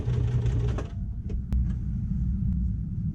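A sewing machine runs a short backstitch burst on a pearl wallet, a brief mechanical whir of stitching that stops after about a second and leaves a low steady hum with a couple of small clicks.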